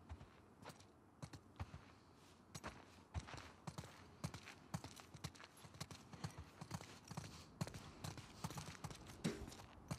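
Steady clip-clop of horse hooves in the video game The Last of Us Part II, a quick, regular rhythm, fairly close, with a faint creak now and then and no talking.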